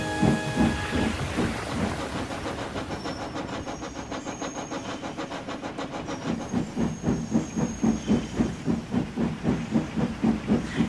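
Rain with rumbling thunder in a storm, loud and steady, joined by rhythmic puffing chuffs of a steam engine building to a regular beat; no talk.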